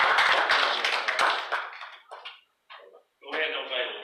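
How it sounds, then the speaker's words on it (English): A church congregation claps their hands together, a dense burst of applause that thins into scattered claps and briefly falls silent, with voices speaking alongside. "Everybody give the Lord a big hand clap."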